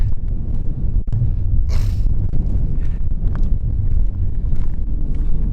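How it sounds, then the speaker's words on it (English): Strong wind on a mountain in Sarek National Park, Sweden, buffets the microphone in a constant low rumbling roar, gusting throughout with no voices. "but it's windy"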